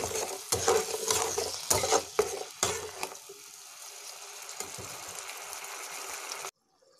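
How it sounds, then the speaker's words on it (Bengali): A spoon stirs fried spices and turmeric in a pan with added water, giving a run of quick scraping strokes and a soft sizzle that fades to a quieter hiss before stopping abruptly. "মশলা দেওয়ার জলটা আমি এর ভিতর দিয়ে একটু নেড়ে রাখবো কিছুক্ষণ।"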